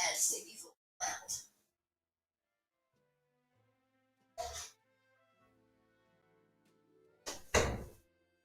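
A room door is pushed shut with a few dull thumps and knocks spaced by pauses, while faint steady television or game music plays in the background.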